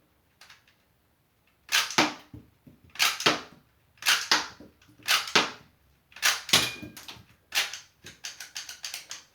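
Fidget Reaper Scorpion shell-ejecting toy air blaster fired at cans, a string of about seven sharp, close snapping shots with clacking mechanism noises, evenly spaced, with a quicker burst of clicks at the end and no voices.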